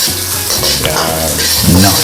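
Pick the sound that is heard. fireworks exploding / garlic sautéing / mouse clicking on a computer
garlic sautéing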